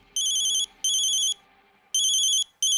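A phone ringtone sounds in four bright electronic bursts of about half a second each with short gaps, loud and close over a quiet background.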